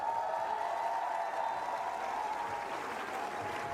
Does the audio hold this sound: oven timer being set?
no